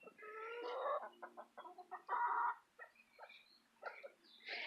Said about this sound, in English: This is the area where we keep the chickens.